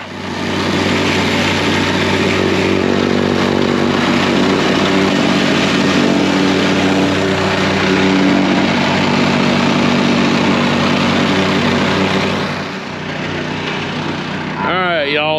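An engine-driven compactor working dirt on a site being readied for concrete, with a loud, steady mid-pitched engine drone and hum running throughout, dipping slightly near the end; no clear talking.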